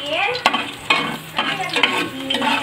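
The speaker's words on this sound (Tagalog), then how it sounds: "Pag naamoy nyo na yung bawang, sunod nyo na po ang sibuyas." Garlic and onion are stirred in a hot pan and sizzle steadily. A spatula scrapes and clacks against the pan in a quick irregular rhythm, close and fairly loud, with no talking.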